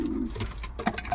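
A racing pigeon that has just flown home from a 1000 km Brussels national race coos in repeated soft, low calls close by. Light background noise runs underneath.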